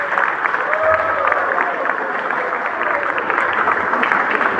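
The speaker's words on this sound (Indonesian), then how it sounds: "Tepuk tangan dulu" Applause from the audience at a graduation ceremony for SMK N-2 Manokwari in Papua Barat, a steady dense wash of many hands clapping throughout, with crowd noise and a voice mixed in beneath.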